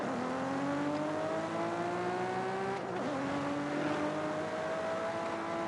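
A 1998 Toyota Supra RZ in Forza Horizon 5 revs hard and steadily, its engine note climbing in pitch, dipping briefly near the middle, then climbing again, loud and close with no talking.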